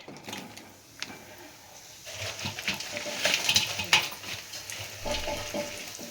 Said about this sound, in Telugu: ఇదిగోండి ఇలాగా ఫ్రై చేసి ఆయిల్లో